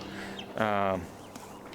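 Chickens in a coop next to a greenhouse give a single loud, harmonic squawk-like call lasting about half a second, surrounded by quiet ambient hum.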